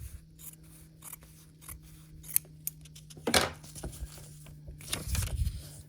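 Scissors snip through fabric and paper for foundation paper piecing of a quilt star block, making a few quiet, close cuts and rustles at a low level.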